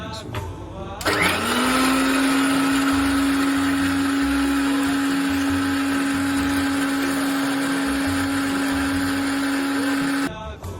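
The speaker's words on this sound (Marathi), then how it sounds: "त्यासाठी आपण घेतला आहे आपला मिक्सर आणि त्यात आपण खेकड्याची पाय सगळी ठेवलेली आहे" A kitchen mixer grinder whirs up sharply and runs at a loud, steady high-pitched whine while grinding crab legs with water, then cuts off abruptly near the end.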